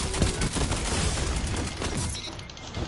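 Dense, loud bursts of hand cannon gunfire in a video game rattle continuously, overlapping shots with booming impacts and no pauses.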